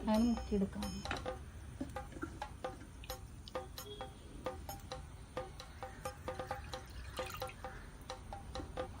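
Two cups of water trickle and drip into a pot in short irregular bursts while milk laddu is made, with faint clinks and kitchen handling noises around it.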